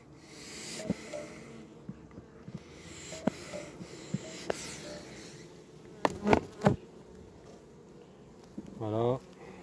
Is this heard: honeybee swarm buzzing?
yes